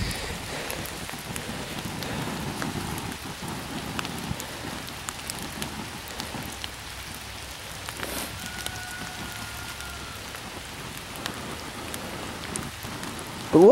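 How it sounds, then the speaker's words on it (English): Steady rain falls on an outdoor surface, a dense continuous patter of drops with no voices, holding even throughout and briefly broken by a faint tonal whine partway through. "since it's raining"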